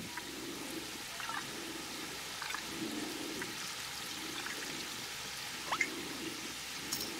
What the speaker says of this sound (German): So, jetzt regnet's hier.